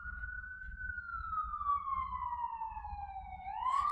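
A siren wails along a downtown street, one long falling tone with faint harmonics that rises sharply again at the end, moderately loud over low traffic rumble, no voices.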